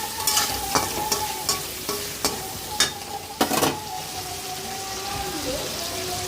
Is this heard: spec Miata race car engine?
no